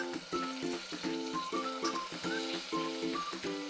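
Finely cut potatoes and a green chili sizzle steadily in a hot pan for a Sai Bhaji, a continuous close frying hiss with soft music playing underneath.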